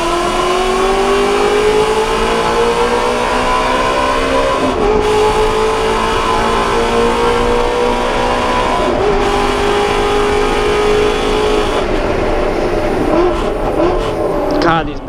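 A Ford GT350's engine drones loudly and steadily at the Circuit of the Americas, its pitch climbing gradually under acceleration, with brief dips at gear changes, while someone talks over it.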